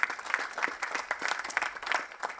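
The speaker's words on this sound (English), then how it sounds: "Can we clap for him?" Graduation audience clapping, a moderate burst of many hands with uneven, choppy rhythm, heard fairly softly from within the hall.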